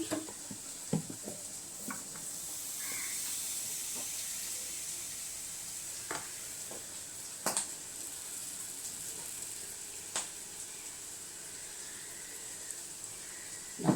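Appam batter poured onto a hot pan gives a soft, continuous hiss and sizzle, broken by occasional sharp clinks of utensils against the pan.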